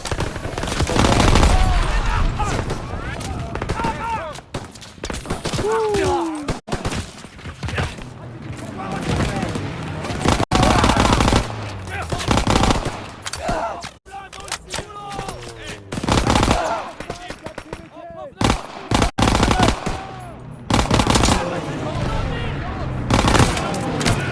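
Machine-gun fire in a Call of Duty WW2 battle, with dense, continuous rapid bursts and booming shots layered throughout, loud and close, while voices shout over the fighting.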